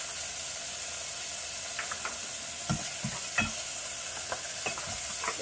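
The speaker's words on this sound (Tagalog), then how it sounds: "Habang ginigisda natin yung bawang tsaka sibuyas" Garlic and onion sauté in hot oil in a pan for chicken adobo, giving a steady loud sizzle with scattered stirring scrapes and clicks throughout.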